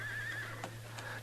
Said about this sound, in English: I'll take my horse then, Ellen.